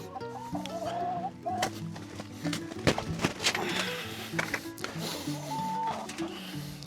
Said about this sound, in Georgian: ნახე რა დღეშია ეს დებილი მამალი